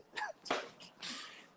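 One sharp sneeze bursts out close and clear, preceded by a quick breathy intake, in a quiet indoor conversation setting.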